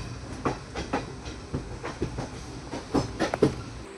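A late passenger train rolls into Sangameshwar railway station on the Konkan line, its wheels giving a steady, uneven clickety-clack over rail joints with faint hiss and rumble in the background, heard from inside the train.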